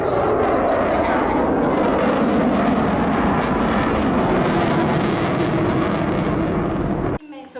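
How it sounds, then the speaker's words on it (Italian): Jet aircraft roaring overhead during an air show rehearsal at Jesolo, a loud, dense, continuous rush that holds steady for about seven seconds before cutting off abruptly, with an announcer's voice over it. "Tra Jet e Ferrari, che fu la sfida tra Gilles Villeneuve qualche anno fa"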